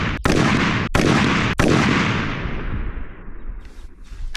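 Three loud, sharp rifle shots ring out about two-thirds of a second apart, fired unsuppressed with no muzzle device on an outdoor range, each crack trailing into a long rolling echo that fades away.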